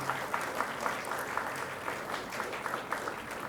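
Audience applause at a college professor-of-practice talk, a steady wash of many hands clapping at an even level throughout, with a faint voice or two underneath.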